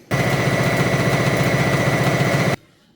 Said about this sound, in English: And I'll just sew this bottom shut along here.